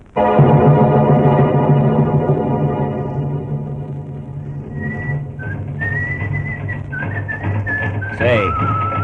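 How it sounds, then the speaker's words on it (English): A man whistles a tune clearly and close by while punching a bag, over a sustained musical background, with the melody rising and sliding in bright, wavering notes. "this guy you hear whistling and punching that bag"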